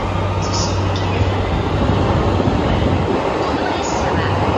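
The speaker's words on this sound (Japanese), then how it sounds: "今度の9番線の列車は17時21分発横須賀線直通普通津市行きです" A Yokosuka Line train runs at platform 9 of Yokohama Station, a loud continuous rumble of wheels and cars close by with occasional high squeals and a low hum.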